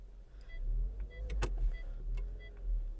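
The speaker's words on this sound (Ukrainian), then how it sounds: "Склопідйомники працюють." Electric power windows of a Skoda Octavia A5 1.6 running, a muted motor whir rising and falling over a few seconds with small clicks at the stops, heard close inside the car.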